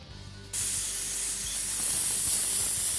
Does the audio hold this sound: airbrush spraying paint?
yes